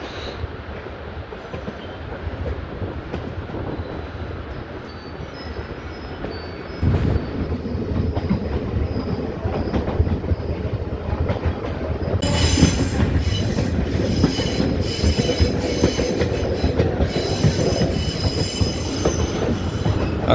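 A passenger train on the Tenkasi–Kollam line runs through the tunnel crossing from Tamil Nadu into Kerala, a loud continuous rumble and roar with squealing wheels that grows harsher and brighter partway through, steady throughout with no voices.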